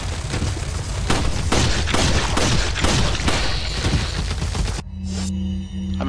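Shotgun blasts and other gunfire ring out in a Resident Evil 4 gameplay session as a rapid series of loud booming shots, then stop suddenly, leaving a quieter game tone.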